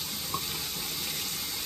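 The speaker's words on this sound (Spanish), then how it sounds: "Vamos a enjuagarla con agua tibia" Steady rush of running warm tap water rinsing, fairly loud and continuous, with a brief faint clink near the start.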